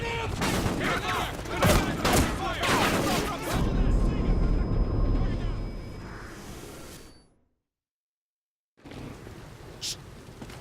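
Gunfire in the first-person shooter Call of Duty Ghosts, a dense burst of rapid shots under shouted voices for several seconds, then a brief silence before quieter game ambience with a faint sharp sound returns.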